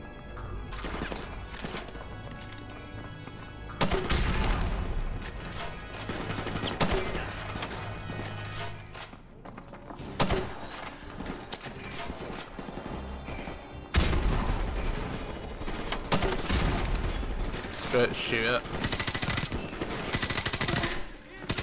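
Sustained automatic gunfire with heavy bursts and booming impacts from a Modern Warfare Remastered campaign battle, loud and dense throughout with brief lulls and a voice talking underneath.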